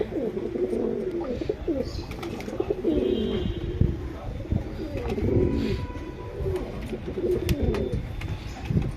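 Pigeons kept as pairs for sale coo in repeated low rolling phrases, close and fairly loud, with faint chirps and small rustles throughout.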